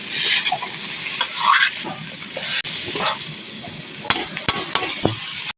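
Chicken liver stir-frying in a pan with pepper and tamarind, a busy close sizzle broken by scrapes and clinks of a spatula, running steadily with no talk.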